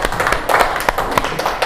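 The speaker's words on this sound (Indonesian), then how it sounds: "Tepuk tangan semuanya buat Sela." Classroom of students clapping for a classmate named Sela, a quick scattered patter of many hands, fairly close and steady, with no voices over it.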